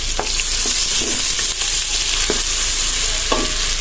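Garlic and onion sautéing in a pan give a steady bright sizzle, with a few soft scraping stirs of a utensil breaking through at intervals, close and continuous throughout.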